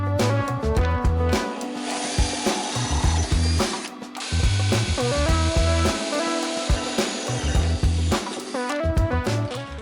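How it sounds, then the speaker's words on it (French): Power drill boring a 4 mm screw hole through the underside of a part for an aggressive street roller skate, running steadily with short stops and restarts, close and loud throughout. "On perce en dessous à 4 à travers."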